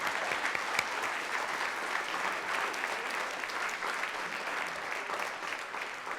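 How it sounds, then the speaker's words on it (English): An audience at a Chautauqua performance claps in sustained, dense applause that stays even and fairly loud from start to finish. "Give yourselves a great round of applause."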